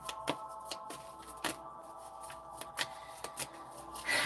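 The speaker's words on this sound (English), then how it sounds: "I'm shuffling past it now" Tarot cards being shuffled in quick riffling bursts, with sharp flicks and papery rustles repeating several times, close and fairly quiet, no voices.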